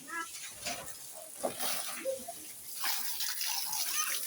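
Water from a hose is sprayed onto a building's walls and roof, hissing and splashing steadily at a moderate distance, with faint voices and brief thuds mixed in.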